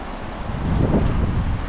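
Strong wind gusts past the microphone beside a river where tilapia is being fried outdoors, a loud continuous low rumble that swells briefly in the middle.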